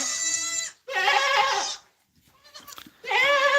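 Goats on a farm bleat loudly and close by in three long, wavering calls separated by pauses, with faint shuffling and rustling between them.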